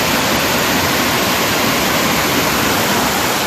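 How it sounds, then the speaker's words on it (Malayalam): Heavy water rushing through a highway drainage channel and pouring into a house yard, a loud continuous broadband roar with no pauses, close and steady throughout. "ഈ ഡ്രെയിനേജ് വഴി വെള്ളം ഒഴുകി വരുന്നത് ഈ വീട്ടുമുറ്റത്തേക്കാണ്."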